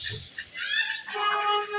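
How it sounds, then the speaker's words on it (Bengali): Ducks at a home flock give a few short, nasal honking calls close by, in a quiet setting. "এটা হচ্ছে হাঁস"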